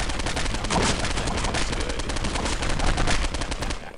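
Heavy automatic gunfire from Postal 2 rattles in rapid, continuous bursts, loud and close, with no talking over it.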